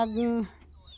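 Farm chickens peck at overripe bananas, giving one close, clear drawn-out cluck that quickly fades, followed by faint background sounds.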